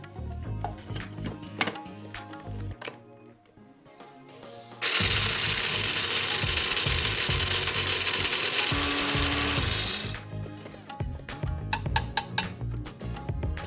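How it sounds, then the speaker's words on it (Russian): An electric spice grinder whirs loudly and steadily for about five seconds as it grinds two tablespoons of chana dal for sambar masala. Clicking and kitchen handling noises come before and after the grinding. "Вначале смелим 2 столовых ложки чана-дал."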